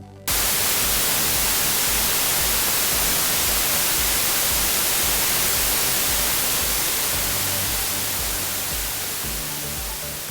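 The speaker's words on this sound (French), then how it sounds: "maintenant je vais entendre le son du bruit blanc" Steady white noise from a software modular synthesizer fills the clip, a loud, dense, unbroken hiss that starts abruptly and runs without change, slightly fading toward the end.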